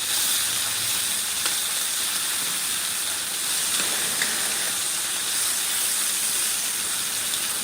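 Four pounds of sweet and spicy bacon sizzle in a pan, a loud, dense, continuous hiss and crackle that stays close and even throughout, with no voices.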